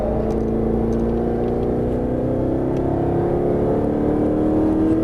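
A Mercedes-Benz SLS AMG pulls hard around a race track in Las Vegas, its engine note climbing steadily in pitch as it accelerates, loud and close with a constant droning whir.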